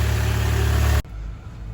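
A Mitsubishi 4D20 diesel car engine with an oil-spraying turbo fault idles loudly with a steady low drone, then abruptly drops to a much quieter, rougher hum about halfway through.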